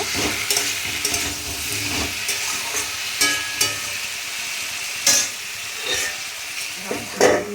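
Soybean chunks fry in a pan with a continuous crackling sizzle, broken by repeated scraping stirs and brief louder clatters of the spoon, close by and with no talking.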